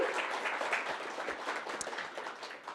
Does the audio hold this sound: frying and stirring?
no